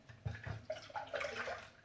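Evaporated milk is poured from a tin into a bowl while making a caramel tart, giving a soft, brief liquid splash and gurgle close by, with faint kitchen handling noises around it.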